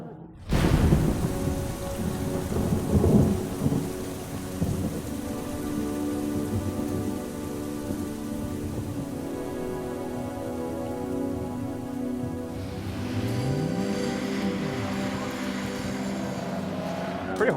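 Heavy rain pours steadily during a racing session, a dense, loud hiss with low rumbling underneath and a car engine's tone rising and falling toward the end.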